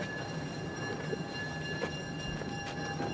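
A train rolls past with a steady, dense rumble and rail noise, with faint clicks and a few sustained whining tones running throughout at moderate loudness and no voices.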